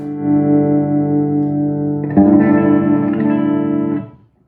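Electric guitar played through an EVH 5150 III 50-watt 2x12 EL34 combo amp at half power: a held distorted chord rings out, then a second chord is struck and sustains loudly before being choked off.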